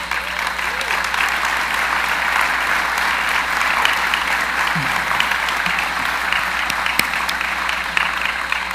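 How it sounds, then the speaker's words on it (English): An audience at a general session of a large conference applauds steadily and evenly, a full, dense wash of clapping that lasts throughout. "let's give them a round of applause"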